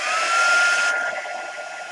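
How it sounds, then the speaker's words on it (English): Heat gun blowing hot air onto a collage journal page, a close steady whooshing roar with a faint whine that softens slightly partway through. "Heat gun."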